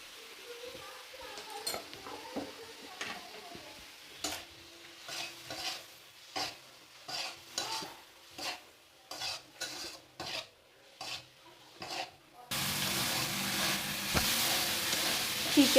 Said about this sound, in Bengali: চিকেনও খুব সুন্দরভাবে ভাজা হয়ে গেছে